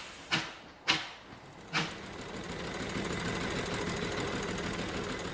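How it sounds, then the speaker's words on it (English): An engine works its way up a steep Sheffield hill in the rain: three sharp, loud bursts come first, then a steady, dense rumbling drone carries on beneath them. "some of these hills can still be a bit of a problem for the engine"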